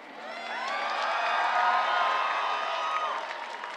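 Crowd at an outdoor rally in Washington Square Park, cheering and whooping in a swelling burst that peaks and then tapers, fairly distant and mixed with scattered shouts.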